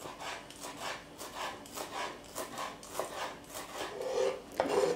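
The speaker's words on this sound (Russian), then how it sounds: "Несколько веточек мелко нарежу." A knife finely chopping sprigs of fresh dill on a wooden cutting board, a steady run of soft, rhythmic chops close by with a slightly raspy edge.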